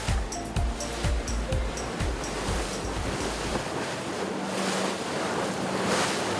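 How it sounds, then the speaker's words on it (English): Choppy sea waves off British Columbia's northwest coast slap and splash against a boat hull amid gusty wind noise, with a rhythmic knocking early on that fades into steady rushing water. "as we got closer, the seas became choppier"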